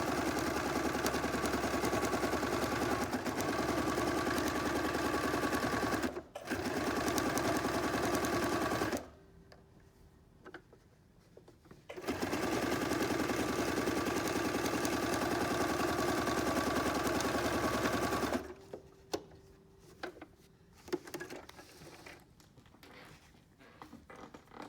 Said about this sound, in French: je couds sur la ligne que j'ai tracée